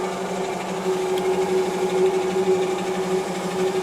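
An oil pump test machine runs steadily while checking a pump at changing RPMs, giving a continuous mechanical hum with a strong tonal whine and an even rhythmic churn that holds loud and close throughout.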